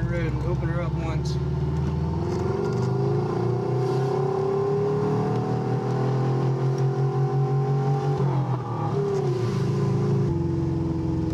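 A Subaru EA82T turbocharged car accelerates hard on an open road, its engine note climbing steadily through the gears, loud and close from inside, with a brief dip near the end and people talking over it.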